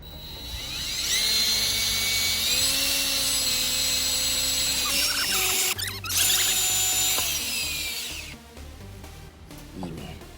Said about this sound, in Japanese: ドリルします。